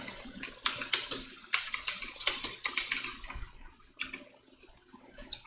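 Typing on a computer keyboard that sometimes duplicates characters, with quick irregular clicks and taps in short bursts, moderately close and fairly quiet.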